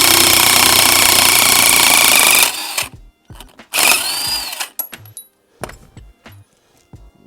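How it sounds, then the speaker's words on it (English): A cordless 1/2-inch impact wrench hammers loudly on a 14mm bolt on a Honda Integra subframe, a long sustained rattling burst followed by a second shorter burst, with scattered clinks and knocks of tools in between. "using our 1/2" cordless impact, we're gonna just stick this on there"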